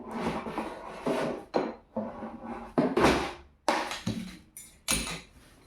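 Wooden aari embroidery work stand with an 18-inch frame and legs being fitted together, giving a series of close wooden rubs, scrapes and knocks in short irregular bursts.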